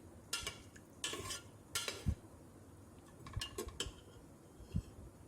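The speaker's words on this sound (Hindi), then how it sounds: "यहाँ पर मैं दही डाल करके इसकी भुनाई करूँगी" Masala with yogurt being stirred and fried in a pot for Hyderabadi beef pulao, heard as quiet intermittent metal spoon scrapes and clinks against the pot in short bursts, with a faint background hiss.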